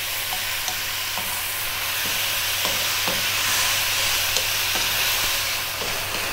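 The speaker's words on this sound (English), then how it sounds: "We're going to stir fry again, high heat, for 4 minutes." Food stir-fried over high heat in an Asian home kitchen gives a steady, dense sizzle with soft hiss, broken by faint periodic scrapes of stirring, with no talking.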